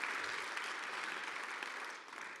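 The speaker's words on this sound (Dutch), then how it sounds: "geef haar ook een oorverdovend applaus" Sustained applause from an audience at a university psychology symposium, a dense even wash of many hands clapping at steady moderate loudness, with no voices over it.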